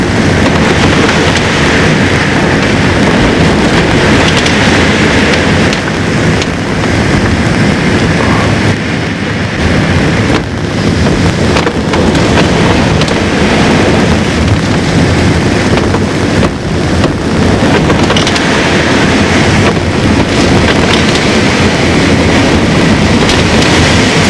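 Loud, roaring hurricane wind buffets continuously with heavy rumbling gusts and broadband noise, no voices, sustained throughout.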